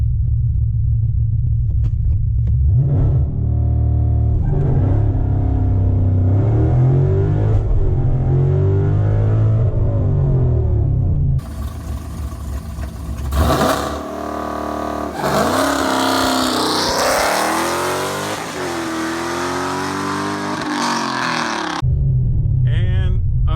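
A car on MT ET Street SS or Street R drag tyres launching from a standstill with launch control at about 4,500 rpm, a loud held rumble then a roaring full-throttle run through the gears, engine pitch climbing and dropping at each shift.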